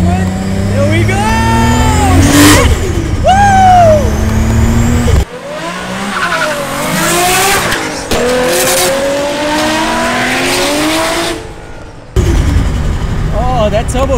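A 1000HP Nissan Skyline GTR accelerates hard in second gear, its engine note climbing loudly and close in repeated surging pulls broken by brief gaps, with a voice talking over it.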